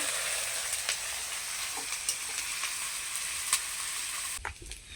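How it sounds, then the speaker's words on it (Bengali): Onion frying in a pan with green chilli paste for a spicy fish curry, a steady, close, continuous sizzle with a few small pops, fading out abruptly near the end with no voices. "পেঁয়াজটাকে লাল লাল করে ভেজে নেব"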